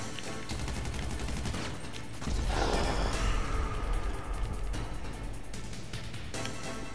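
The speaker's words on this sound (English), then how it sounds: "This shotgun is crazy overpowered." Shotgun blasts during a GTA Online deathmatch: a dense chatter of distant shots with one heavy, booming blast partway through, then more scattered firing.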